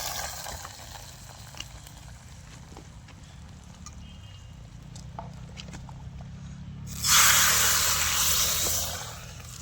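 Garlic, green chili and curry leaves hit hot oil for a tempering, bursting into a loud bright sizzle that swells suddenly and holds near the end after quiet outdoor ambience.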